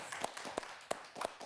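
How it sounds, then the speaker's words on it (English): A few sparse, sharp claps land at irregular intervals, quiet and close, like a handful of people clapping briefly. "Why are we clapping?"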